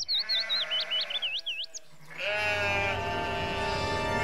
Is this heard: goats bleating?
yes